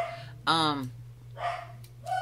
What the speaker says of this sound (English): the dogs are having a fit